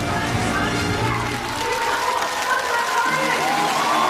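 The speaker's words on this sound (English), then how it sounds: "The crowd is erupting in cheers and applause, waving their flags" A large crowd at Singapore's 2024 National Day Parade cheering and applauding without pause: dense, continuous clapping and shouting, with a commentator's voice faintly over it.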